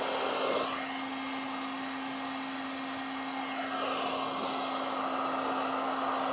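Heat gun blowing hot air while warming STEK paint protection film on a Cybertruck door, a continuous steady whir with a constant hum, its airflow swelling slightly as the gun moves, no talking.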